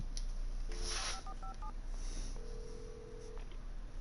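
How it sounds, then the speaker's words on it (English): A phone in the Alan Wake video game dials a number, producing a short run of clear keypad tones followed by a single longer tone, over a steady low background hum. "Phone."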